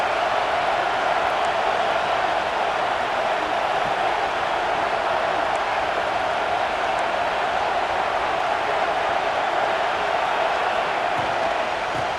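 Stadium crowd in the College Football 26 video game at a Tennessee Volunteers vs Mississippi State game, a loud steady roar of crowd noise that holds without a break throughout.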